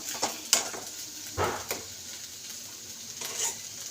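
Cooked greens and potato chochri are mixed in a pan over a soft continuous sizzle, with a few scraping stirs and light utensil clinks close by.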